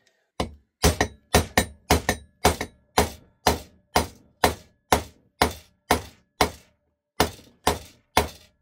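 A hammer strikes to drive a bearing into place on a GPZ900R motorcycle, about sixteen sharp metallic blows close by in an uneven rhythm, some in quick pairs, with no talk.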